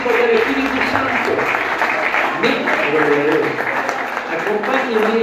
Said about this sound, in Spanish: Dale un fuerte aplauso al Señor